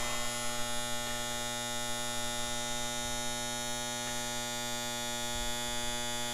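A powder coat oven hums and buzzes steadily as it heats up, a constant electrical drone with strong harmonic tones running unchanged from start to finish, with a few faint clicks and no voices.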